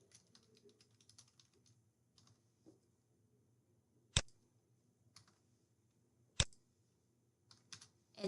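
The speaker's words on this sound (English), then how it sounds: "we're going to type in the article title" Typing on a computer keyboard in a quiet room, soft scattered keystrokes punctuated by a few sharp, louder key clicks, close up and alone without talk.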